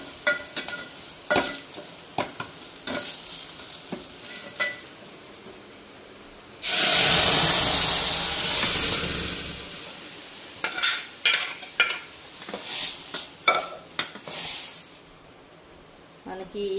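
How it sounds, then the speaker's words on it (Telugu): Garlic and moong dal fry in a pan with scattered clinks and stirring, then a loud sustained sizzle bursts out for a few seconds before settling back to lighter stirring sounds. "ఇవి వేగాయండి, ఇప్పుడు ఇందులో మనం పప్పు వేసుకుందాము."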